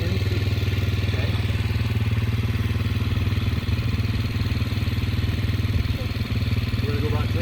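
The engine of a rental dirt bike runs at a steady idle in Estes Park. It makes a close, continuous low throbbing rumble with mechanical clatter on top.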